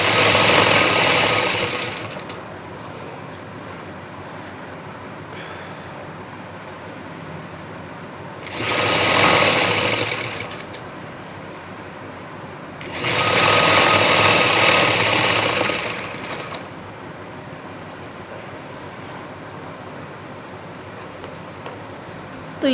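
Domestic sewing machine stitching a gents' nekar (shorts), running in three separate bursts of steady whirring and needle rattle with quiet pauses between them.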